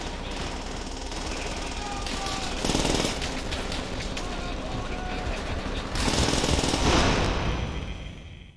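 Machine gun fire in the World War II shooter Call of Duty: World at War, a dense rapid rattle of automatic bursts running steadily throughout, swelling louder in two stretches, with a player's voice talking over it at times.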